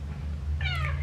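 A cat, one of an outdoor litter of neighbourhood kittens, gives a single clear meow over a steady low hum, short and fairly close.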